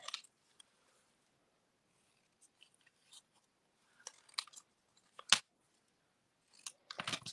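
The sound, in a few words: scissors fussy cutting a paper sentiment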